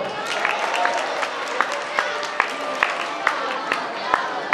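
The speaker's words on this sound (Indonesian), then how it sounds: "Tepuk tangan buat Pak Tri Putra dong" At a National Waste Awareness Day gathering, an audience claps for a guest, a mix of scattered sharp individual claps over a steady wash of crowd noise, with voices mingled in.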